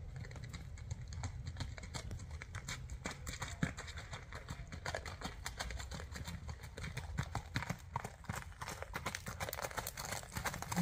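Hooves of a horse pulling a red cart at a saddle club clip-clop in a quick, steady rhythm, faint and somewhat distant, continuing throughout with no speech.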